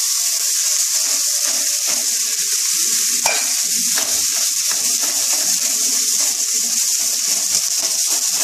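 Boiled potato fries in hot oil in a pan, a loud, steady sizzle with repeated scraping strokes of a spatula stirring close by, no talking.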